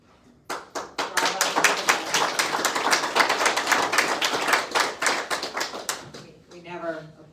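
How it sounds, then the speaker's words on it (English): A small group in a council meeting breaks into close, steady applause that lasts about five seconds before a voice starts speaking. "We never applaud in our meetings, but that warrants applause."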